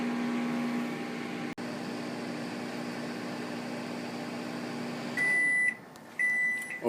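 A microwave oven runs with a steady, loud hum while reheating snow crabs seasoned with Old Bay, followed by a series of electronic beeps and a door click at the end.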